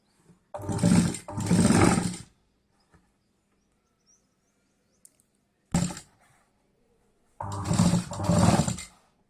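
A simple sewing machine stitches fabric in three separate runs: a long buzzing burst, a very short one, then another sustained stretch, with near-silence between them.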